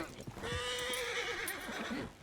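A horse in a roleplay video game lets out one loud, drawn-out whinny lasting nearly two seconds, with a few hoof clops around it and no talk.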